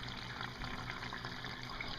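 An indoor aquaponics bell siphon drains water through its pipe with a steady, moderate gurgling rush that holds constant and never stops.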